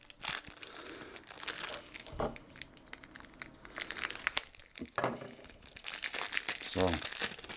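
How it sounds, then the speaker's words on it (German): Plastic packaging around a white Oral-B Genius 9000N toothbrush charger being unwrapped, with crinkling and tearing rustles in bursts close by, interleaved with someone talking. "Den können wir auch auspacken, den brauchen wir ja."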